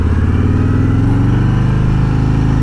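Harley-Davidson Road Glide Special motorcycle engine rumbling steadily up close with a deep, pulsing V-twin throb and slight rise in revs, loud and continuous with no talking.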